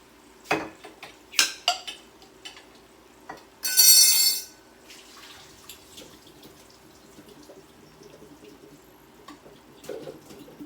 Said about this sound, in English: I'm gonna go ahead and drain the potatoes.